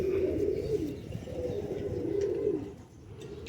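A male pigeon cooing in low, throaty, rolling calls, steady and close, with a soft hum of background noise.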